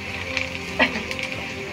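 Onion, ginger, garlic and spices fry in hot oil with a close, steady sizzle, broken by a sharp stirring scrape or clatter midway and another brief knock at the end.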